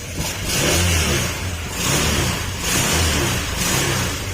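Honda Click scooter engine, recovering after a crash and showing a check-engine fault, revving repeatedly in loud rising and falling surges with no talk.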